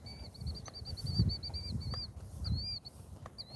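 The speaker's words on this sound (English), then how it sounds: "This bird is yelling at me." A bird calling repeatedly at moderate distance, a run of short high chirping notes, outdoors over faint rustling and background noise.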